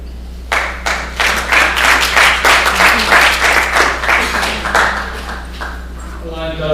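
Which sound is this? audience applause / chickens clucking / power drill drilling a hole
audience applause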